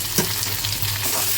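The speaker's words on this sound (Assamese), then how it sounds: "পিঁয়াজখিনি ভাজি হোৱাৰ পিছত মই বিলাহীখিনি দি দিলোঁ।" Tomatoes are tossed in with browned onions in a hot wok for a chickpea curry, giving a close, steady sizzle with stirring scrapes and no voices.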